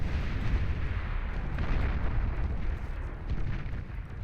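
Missiles firing at a fusion reactor in the strategy game Beyond All Reason, a continuous rumbling barrage of launches and explosions at fairly low level, no voices.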